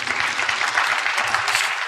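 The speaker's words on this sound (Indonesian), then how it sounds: "Kita beri tepuk tangan untuk Tuhan Yesus" A church congregation claps together in steady, dense applause for Jesus during a worship service, close and even throughout with no one speaking.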